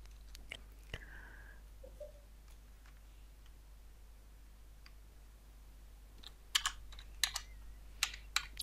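A computer keyboard is typed on quietly at a desk while editing photo details. Scattered soft key taps come first, then a quicker burst of sharper clicks near the end, over a low steady hum.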